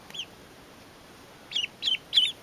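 Young ducks newly settled under a heat lamp give short, high peeping calls, one early and then three in quick succession, loud and near against a quiet background.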